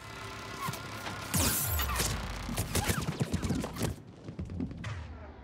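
An automated turret in Mass Effect firing rapid repeated shots with crashing impacts, loud and close at first, then thinning into sparser bursts; nobody speaks.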